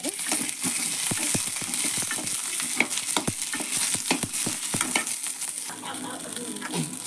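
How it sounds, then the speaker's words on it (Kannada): Tomatoes fry and sizzle steadily in a pan for an egg curry gravy, with frequent sharp scrapes and clacks of a spoon stirring throughout, fairly close and alone without talk. "ಈ ಥರ ಹುರಿಬೇಕು ನೋಡಿ ಕೆಂಪಾಗೊಂಡು ಸ್ವಲ್ಪ ಹುರಿಬೇಕು ಈಗ ಟೊಮೆಟೊ ಹುರ್ಕೊಳ್ಳೋಣ"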